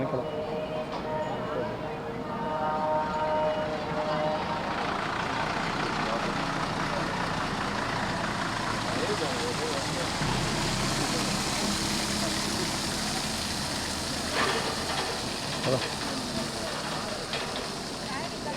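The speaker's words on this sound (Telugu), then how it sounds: "lorry lorry" A lorry engine idles with a low, continuous rumble amid an outdoor pilgrim crowd at Tirumala. Voices and shouting carry over it for the whole stretch, with a few sharper knocks and clatters near the end.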